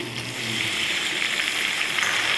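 Chopped tomatoes sauté in sesame oil for sundakkai chutney, a steady close hiss and sizzle that holds evenly throughout with no talk over it.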